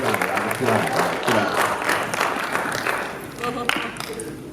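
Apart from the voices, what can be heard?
audience clapping at a boys academy talk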